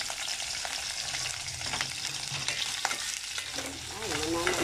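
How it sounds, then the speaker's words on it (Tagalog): Chicken frying in a pan gives a steady, close sizzle with crackling and occasional stirring scrapes, and a faint voice briefly rises near the end. "medyo ipiprito ng konti yung chicken"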